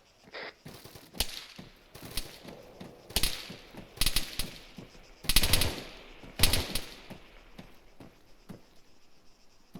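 Sci-fi gunfire in ArmA 3 with a Halo mod: sharp bursts and single shots crack out at irregular intervals, some loud and close, others fainter, with quiet gaps between volleys.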